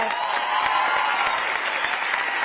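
A crowd at a rally for a vice presidential visit to Reno breaks into steady applause with a hint of cheering, loud and continuous throughout.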